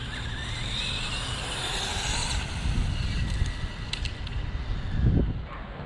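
A Traxxas Rustler 3S two-wheel-drive RC car runs outdoors with a steady motor whine and rumbling tires over rough ground, accompanied by wind noise on the microphone and a louder thump near the end.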